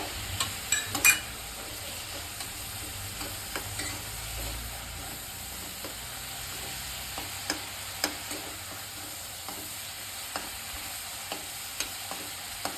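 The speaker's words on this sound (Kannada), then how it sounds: "ಇದು ಎಣ್ಣೆಲಿ ರೋಸ್ಟ್ ಮಾಡ್ಕೊಳ್ಳೋಣ ಕರ್ಬೇವಿನ ಸೊಪ್ಪು" Curry leaves roast in hot oil for a chickpea usli, producing a continuous close sizzle punctuated by regular crisp pops and stirring clicks across the whole stretch.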